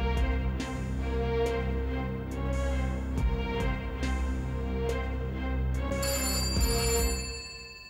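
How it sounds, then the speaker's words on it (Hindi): A telephone rings steadily for several seconds, a repeating electronic ring pattern, loud and near, fading slightly at the end; no voices. "कुमार का फोन होगा।"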